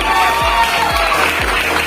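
Crowd applause at a business seminar in India, dense and loud, filling the room with steady clapping and cheering, while a low rhythmic thump repeats underneath.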